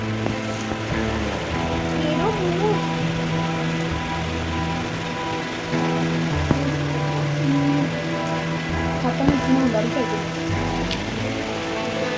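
Heavy rain falling near an old, collapsed house, a constant close hiss of drops on surfaces, with faint voices and tonal background sounds layered underneath.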